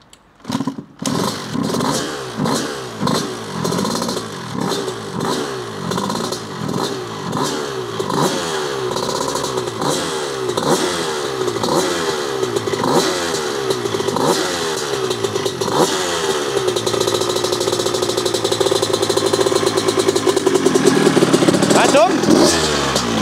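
Honda CR 125 two-stroke motorcycle fitted with a Mugen kit, repeatedly blipped with rising and falling revs in a quick rhythm, then held at a higher steady roar, loud and close, with some talk mixed in.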